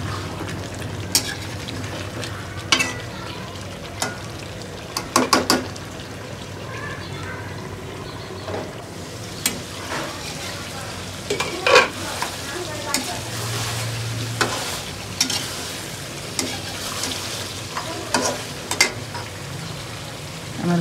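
Cut potatoes frying with mutton in a pot, a constant sizzle under repeated clinks and scrapes of a stirring spoon, close and moderately loud, with a brief voice in the background.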